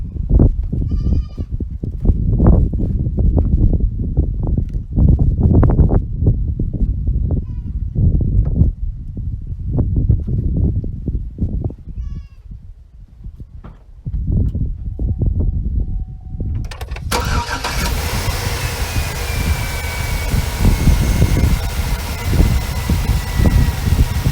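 A Chevrolet Suburban engine, on a truck with non-working air conditioning, catches abruptly about two-thirds through and settles into a steady, loud idle with a faint whine; before that, bleating-like animal calls and scattered noises fill the quieter stretch.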